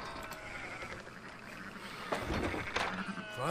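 Sheep in Red Dead Redemption 2 bleating amid a busy outdoor farm soundscape, with overlapping animal calls that grow louder toward the end under steady background noise.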